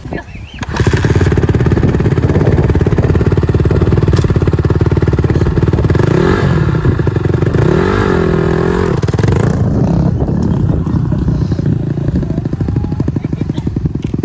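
A motorcycle starts up loud and close on a road, its engine holding a steady rumble with rising and falling revs, while voices speak over it.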